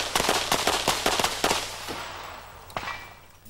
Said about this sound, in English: Here's Lorna Pavelka at the 10-yard line, where she has 5 seconds to fire 6 shots.